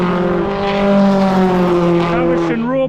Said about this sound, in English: Goes Ash on a warm-up lap, and who's next?